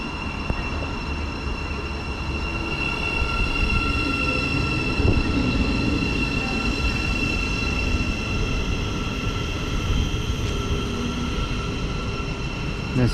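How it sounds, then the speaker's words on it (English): A Peterborough train service pulls away from Stevenage station, a steady rumbling rail drone with a sustained electric whine heard at a moderate distance, continuous for the whole stretch. "There's the Peterborough service just going off in the background as well."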